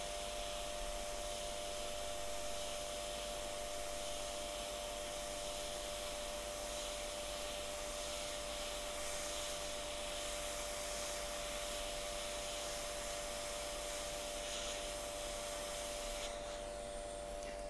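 A hot air rework tool blows steadily and continuously for the whole stretch, heating the pins of a controller chip on a circuit board to desolder it. The hiss is even and unbroken, with no talking.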